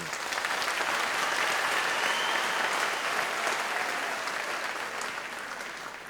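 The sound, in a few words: audience applause at a graduation ceremony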